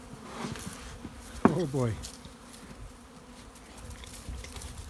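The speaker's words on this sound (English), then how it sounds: "Those are honeybees." Honeybees buzzing around outdoors in fall, with a brief close buzzing fly-by that rises and falls, over a faint hum, followed by a short exclamation from a person.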